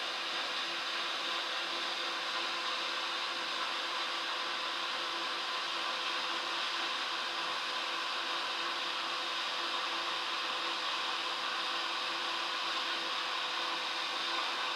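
A heat embossing tool blows hot air steadily for the whole stretch, a constant close airy whoosh with a faint motor hum beneath, no talking over it.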